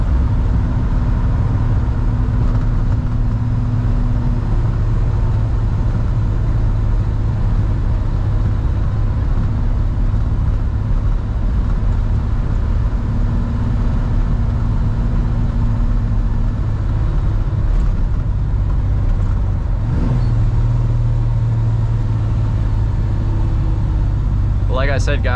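A 1955 Chevrolet 210 cruises along with a steady, low engine drone and road rumble heard from inside the car, while someone talks over it.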